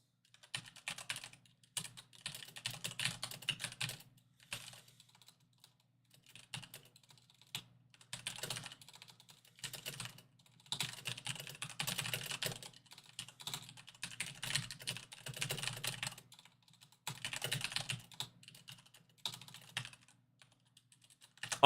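Rapid clattering keystrokes on a computer keyboard come in bursts of several seconds separated by short pauses, close and fairly quiet, with no talking.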